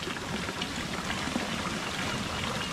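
Steady rain falling and pattering on surfaces, a constant broadband hiss with no break, fairly quiet and even throughout.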